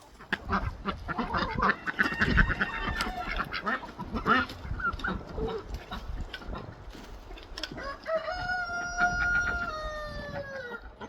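A flock of chickens clucks and squawks busily up close, with honking, crowing-like calls and rustling throughout, while a voice speaks briefly.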